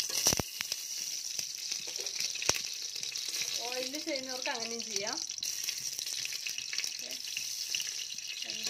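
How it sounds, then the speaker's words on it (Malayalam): Ghee poured into a cooker on the stove sizzles in a steady, close hiss, with a few scattered clicks and someone speaking partway through. "അപ്പോൾ അതിലോട്ട് ഞാൻ ഇനി ഒരു 2 സ്പൂൺ നെയ്യ് ഒഴിച്ച് കൊടുക്കുകയാണ്."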